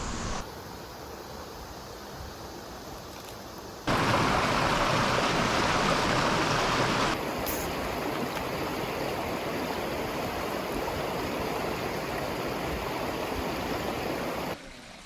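A river stream flows steadily along the Nakasendo in rural Japan, a dense rushing wash that swells louder for a few seconds midway before settling back to a constant near flow.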